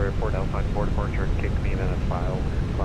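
Airbus A320 jet engines spooling up to about 40% thrust in a flight simulator, a steady low rumble and rising whine that sit beneath a voice talking over them.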